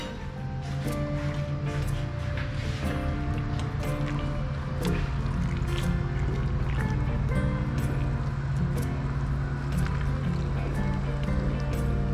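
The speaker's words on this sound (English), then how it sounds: "Now we're gonna pour the soup." Soup is poured over a bowl of Thai Guay Jub rolled rice noodles, a steady close splashing and liquid gurgle with small drips and clinks, running continuously without speech.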